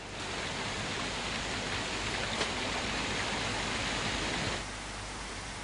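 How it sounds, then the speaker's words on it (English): Steady rain falls in a dense, even hiss that holds loud and unbroken for several seconds, then drops slightly softer near the end, with no voices. "Staring at the rain won't stop it from falling, Theodore."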